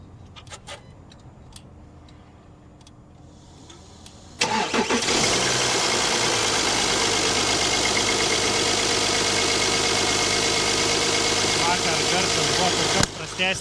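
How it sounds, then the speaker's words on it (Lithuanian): A 3-litre Audi engine with leaking injectors and a rattling timing chain cranks and fires after a few quiet seconds, then runs loud and steady at a close idle with broadband roar. "galite paklausyti, kaip kūrėsi šitas nuostabus 3 litrų Audi variklis su kiaurais purštukais ir"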